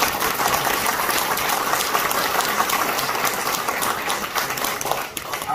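Members of a political party gathered in Busan applaud in a large hall, a dense, loud, continuous roar of clapping that stays steady and eases slightly near the end.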